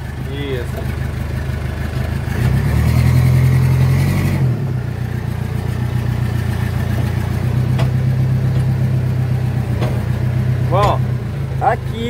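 JCB backhoe loader engine running as the machine drives, a steady mid-pitched diesel drone with a brief rise in revs, under ongoing talk.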